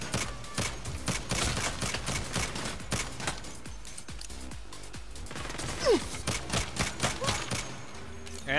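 Rapid gunfire crackles through a Saints Row firefight, dense bursts of shots with sharp repeated cracks, fairly close, under occasional speech.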